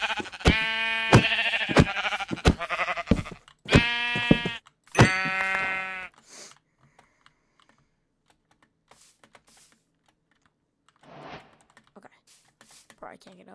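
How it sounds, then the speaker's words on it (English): Sheep in Minecraft bleat several times in a quick cluster near the start, loud and close, followed by quiet stretches with faint clicks and taps. "Get out of here, sheep!"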